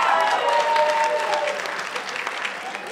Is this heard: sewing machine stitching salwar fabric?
no